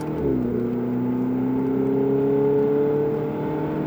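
A Ferrari engine on a driving session in Issoire, pulling steadily with a rising tone under light throttle, close and continuous, with no voices.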